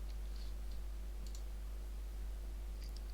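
Faint light clicks of typing on a computer keyboard, a few quick taps scattered over a low steady electrical hum, quiet and close.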